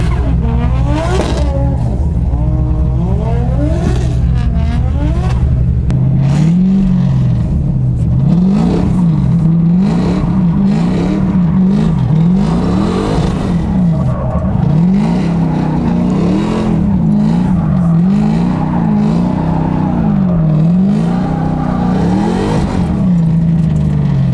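An LS3 V8 in a Mazda Miata drift car on new tires revs loudly and continuously, its pitch repeatedly rising and falling as the throttle is worked through a run.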